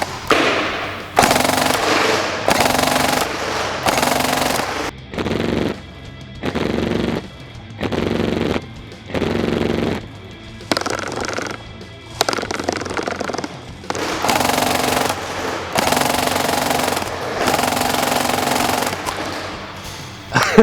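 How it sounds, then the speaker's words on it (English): A Tokyo Marui AUG high-cycle airsoft gun fires full-auto at a target in loud, rapid buzzing bursts of one to two seconds separated by short pauses. "I'm going to switch to fully automatic and we're going to go to town on the target this time"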